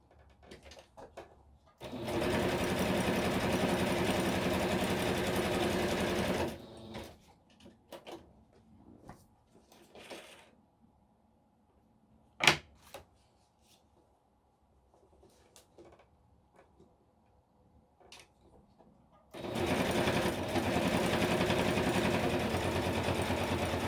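A sewing machine stitches a junk journal pocket made from Tim Holtz packaging: two loud, steady whirring runs of about five seconds each, separated by a quiet stretch of faint handling clicks and one sharp knock.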